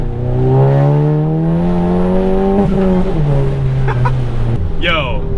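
Straight-piped Stage 2 MK7 Golf GTI accelerating hard from a launch, a loud rising engine tone climbing steadily then dropping at a shift, with brief tire chirp and talk over it.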